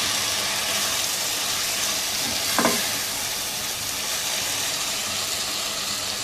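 Okra and onion fry together in a pan, a steady close hiss of sizzling with one brief clatter of a utensil partway through, no speech.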